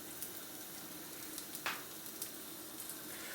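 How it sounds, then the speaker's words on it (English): Chicken frying in olive oil in a pan gives a light, steady sizzle, faint and close, with a few small crackles and pops scattered throughout. "You want a light sizzle going on there."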